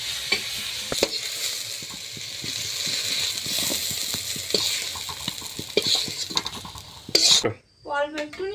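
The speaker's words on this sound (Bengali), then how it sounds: "ভাজা করছি করেছি তো এই যে ভাজা হয়ে গিয়েছে কুমড়োটা এবার তুলে নেবো" Pumpkin pieces fry in oil in a pan with a constant close sizzle, punctuated by repeated clinks and scrapes of a utensil stirring against the metal, before a voice speaks briefly at the end.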